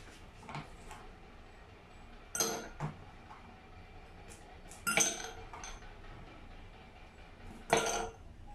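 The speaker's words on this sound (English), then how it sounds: "Put 3 pieces of ice cubes in a glass." Ice cubes drop into a glass at room temperature, giving a few sharp, separate clinks spaced several seconds apart, close and fairly quiet against a soft background.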